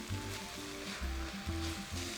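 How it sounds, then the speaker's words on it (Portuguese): Onions brown in a pan over high heat for French onion soup, with a continuous loud sizzle and frying crackle, broken by rhythmic stirring scrapes and no voices. "O tempo aproximado que leva para dourar a cebola é mais ou menos uns 20 minutos. Isso trabalhando em fogo alto."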